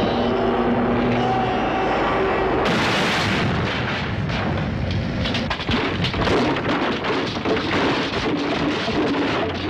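An aircraft makes a rough landing in the Stingray episode Eastern Eclipse, a loud, dense rumbling roar with crashing, rattling impacts that jump in suddenly and continue without a break.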